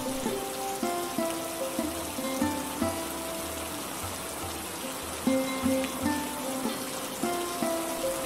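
Rain falls steadily in an animated Bengali fairy tale, a constant soft hiss of drops under a gentle repeating musical backing, with no voices.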